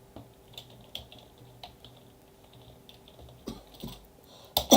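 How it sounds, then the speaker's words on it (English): Typing on a computer keyboard, sparse scattered key taps at an uneven pace over a quiet room, with a louder burst of clacks at the very end; no one speaks. "Let's check if I'm typing right."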